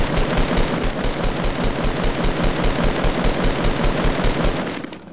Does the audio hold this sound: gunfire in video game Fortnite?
yes